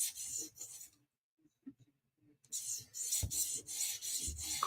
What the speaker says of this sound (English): Quickly just killing the burr with the 400 grit on the second pass